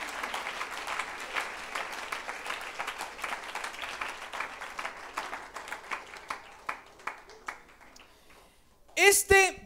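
A church congregation at an evening service applauds in a steady spread of claps, growing sparser toward the end as speech and a brief musical sound take over.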